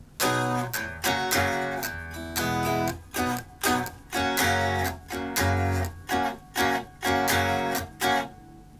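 Acoustic guitar plays the first two measures of a song as a run of rhythmic strummed chords, with short gaps between the strokes. It is heard alone, with no talking.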